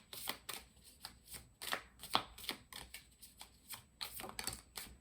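Tarot cards being shuffled by hand make soft, quick riffling and slapping bursts in an uneven rhythm, close and quiet, with no speech.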